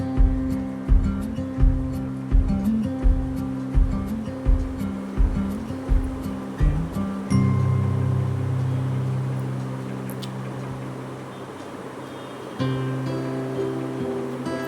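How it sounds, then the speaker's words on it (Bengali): Cut potato and eggplant frying in oil in a pan: a run of rhythmic close knocks and stirring, then a steady, continuous sizzle. "আলু আর বেগুনটা আমি ভেজে নিচ্ছি"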